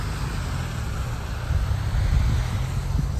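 A waterfall in a snowy mountain landscape rushes in a steady, broad roar, fairly loud and continuous, swelling slightly midway with some wind buffeting the microphone.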